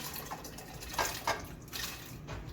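Cooked dal is poured into a container, making faint, soft wet splashes and slurps in a few short bursts.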